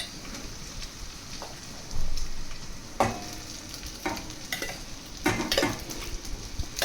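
Sago and potatoes sizzle in hot oil for Maharashtrian sabudana khichdi. Soft, steady frying runs underneath, broken by several sharp scrapes and clinks of a spoon stirring the pan, all fairly quiet and close.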